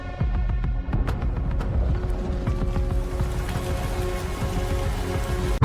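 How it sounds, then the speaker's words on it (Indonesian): Heavy rain pours down steadily over a run-down building, a dense, constant hiss and patter with scattered sharper drops, loud and close with no voices. "Hujan deras mendadak turun"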